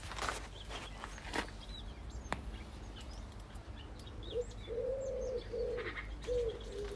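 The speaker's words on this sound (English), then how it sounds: "Those pigeons are at it again." Pigeons coo in a low, rounded, repeated call close by, with faint chirps and a few light taps or footsteps in the background.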